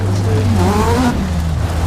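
A car engine in a drone racing simulator video game revs and drones steadily, its pitch rising then sliding down, loud and continuous with a faint background hiss.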